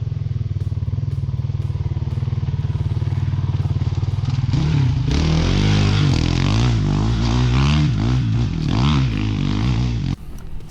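A 2019 Honda CRF450 dirt bike engine idles with a steady low putter, then revs up loudly in rising and falling bursts before cutting off abruptly near the end.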